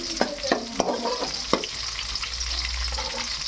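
Green chillies and curry leaves fry in a pan with a steady close sizzle; a few quick spatula knocks come early, then the frying continues alone.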